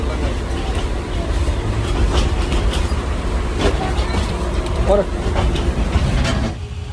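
A passenger train running from Gaibandha to Santahar in Bangladesh, heard from inside the carriage as a continuous low rumble with rattling, occasional clanks, and people talking under it.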